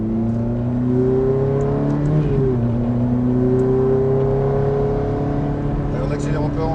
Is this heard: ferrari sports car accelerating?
yes